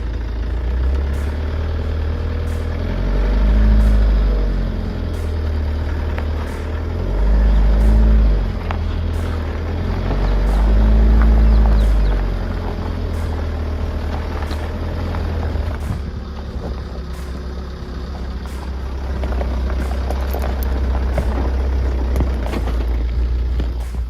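A Tata Storm 4x4 labours in low range through sand, its deep diesel engine droning steadily and loudly close by. The revs swell and surge in repeated jerky pulses, then settle into a rougher, lower rumble.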